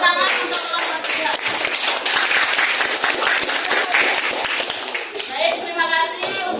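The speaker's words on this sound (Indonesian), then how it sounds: "Tepuk tangan untuk kelompok 3" A classroom group claps together for group 3 in a dense burst of many hands that carries on for several seconds, with children's voices rising near the end.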